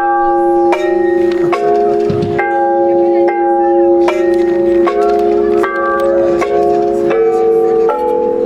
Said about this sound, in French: Le carillon de conserve, donc là c'est le principe d'une boîte de conserve avec une tige filetée qui est fixée à l'intérieur, avec de la feutrine pour isoler.